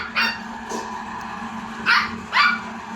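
Two Pomeranian dogs give a few short, high-pitched yappy barks, one early and a quick pair near the end, close by over a low background hum.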